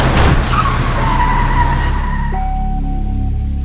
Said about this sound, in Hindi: मिस्टर मीट अपने ट्रक से जॉली अंकल की गाड़ी को टक्कर मार देता है, जिससे जॉली अंकल की कार डिसबैलेंस होकर ही पेड़ से जाकर टकराती है